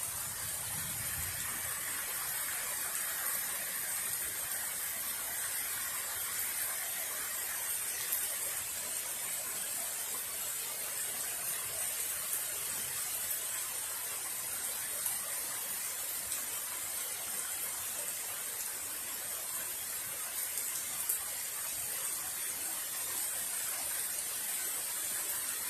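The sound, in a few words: heavy drenching rain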